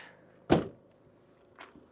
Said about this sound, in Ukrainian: Закриваємо наш багажник.